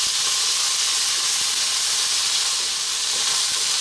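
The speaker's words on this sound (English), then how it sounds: "we're now going to add in our tablespoon of garlic ginger paste, and 2 minutes we're going to go on the same heat" A tablespoon of garlic ginger paste fries in a hot pan for a paneer masala curry, giving a loud, steady, unbroken sizzle and hiss throughout with no speech.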